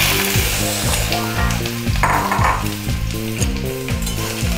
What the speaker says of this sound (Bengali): তেলটা গরম হয়ে গেছে, এখন আমি এই ওলগুলো এর মধ্যে দিয়ে দিচ্ছি।